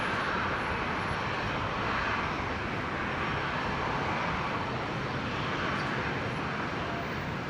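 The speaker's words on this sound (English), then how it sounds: "Now the United Dreamliner on the move, so that's expecting that to depart off of 19 left on the Legacy runway" A United Boeing Dreamliner taxis at Brisbane Airport toward runway 19 left, its jet engines producing a constant broad roar that holds loud and steady throughout.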